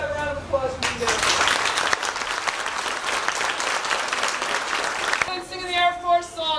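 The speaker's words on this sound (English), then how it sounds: "Let's have a round of applause for you guys" An audience applauds at an Air Force basic training graduation: dense, loud clapping that rises quickly and holds for several seconds, then fades as a voice begins speaking over a public address system.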